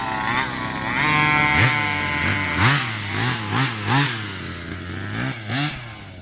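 A Rovan Baja 45cc RC car with a ported motor and modified exhaust pulls off, its small engine buzzing up through a series of sharp, rising revs that come close and loud, with nothing else heard over them.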